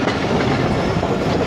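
Passenger express train running on rails between Faisalabad and Lahore in the evening, a steady close rumble of wheels and carriage with a continuous, even roar throughout.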